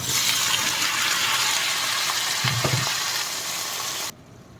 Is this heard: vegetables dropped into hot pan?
yes